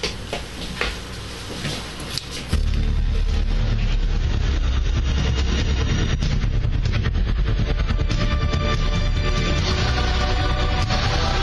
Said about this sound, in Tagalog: Mao na tingali ng taxi, ha?